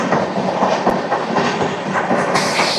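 A Visakhapatnam–Kakinada Port MEMU express train rolls past close by, a loud continuous rumble with rhythmic clickety-clack of wheels on rail joints.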